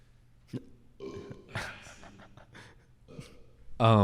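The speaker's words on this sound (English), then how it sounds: "I gotta burp again, one sec." A person burps loudly and up close near the end, after a few seconds of breathing, gasps and faint vocal sounds.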